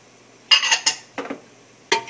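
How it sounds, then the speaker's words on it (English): Chopped onion and carrots go into a heavy-bottomed pot of hot olive oil, heard as a few close, sharp clattering scrapes and clinks of utensil on metal in short bursts, with no talking. "I'm going to add our onion, our carrots,"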